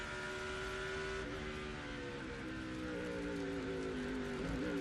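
Onboard a NASCAR Busch Series race car at the 2006 Mexico race, a steady loud engine drone fills the cabin, its pitch dropping and climbing through gear shifts around slow corners, with no talk.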